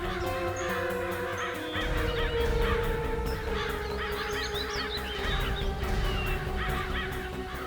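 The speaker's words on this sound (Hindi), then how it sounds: "वहाँ थोड़ा पानी दिख रहा है और बहुत सारे कौवे भी मंडरा रहे हैं" A large flock of crows near water caws repeatedly in harsh, overlapping calls over a steady low background hum, with no one speaking.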